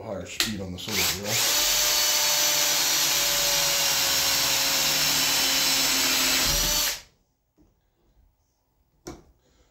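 Small electric drill boring into white oak stock for an axe handle: after a few short starts, one loud steady whine runs for about five seconds, then cuts off into near silence with a faint knock.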